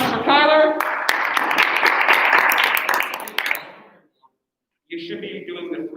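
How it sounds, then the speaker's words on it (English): An audience in a class livestream of debate closing statements and rebuttals claps for a student named Tyler: dense, steady applause for about four seconds, then it fades to silence before a voice resumes. "So clap for Tyler."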